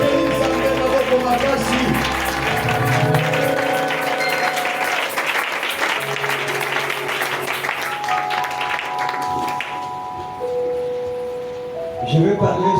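Loud applause with clapping and cheering from a church congregation during a service, mixed with music, gradually thinning toward the end.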